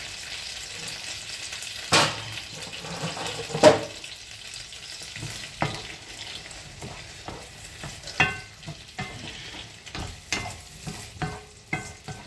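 Leafy vegetables with pilchards in tomato sauce fry and get stirred in palm oil, a steady close sizzle broken by repeated scraping strokes of a spoon against the pot, with no voices.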